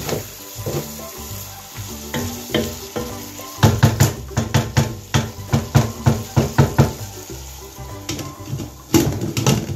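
A carrot, courgette and potato mixture is stirred in a frying pan, with steady sizzling under a run of close, rhythmic scraping knocks of the utensil against the pan that grow louder midway.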